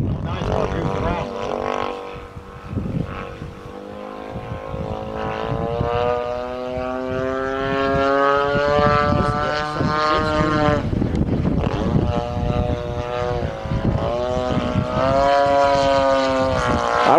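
Small RC model airplane with a propeller engine flying in high wind, a steady droning whine that rises and falls in pitch as it maneuvers, with wind buffeting the microphone and people talking over it.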